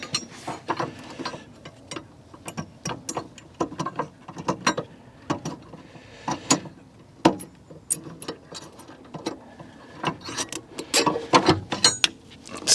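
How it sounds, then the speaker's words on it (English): Battery clamp being removed from a Mazda MX5: a continuous run of metallic clicks, ratcheting and clanks, close by, in irregular bursts with brief pauses, no talking. "Get the clamp out."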